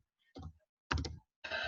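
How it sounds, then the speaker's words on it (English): Three short bursts of clicking keystrokes on a computer keyboard while entering text into a PowerPoint table, close and quiet, separated by brief silent gaps. "I'll be typing this in for hours otherwise."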